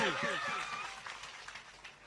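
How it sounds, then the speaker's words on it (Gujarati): A crowd at a village lucky draw held for the benefit of a Ram temple applauds a prize winner, a short, faint wash of clapping that follows a voice and fades out over about two seconds. "વધાવો તાળીઓના ગગડાટથી"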